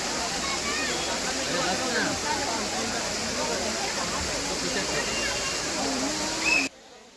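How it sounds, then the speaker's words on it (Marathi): Amboli's main waterfall runs after several days of heavy monsoon rain, giving a steady, dense roar of falling water that holds evenly for about six and a half seconds, then cuts off abruptly. "आंबोलीतील मुख्य धबधबा काही अंशी प्रवाहित झालेला आहे"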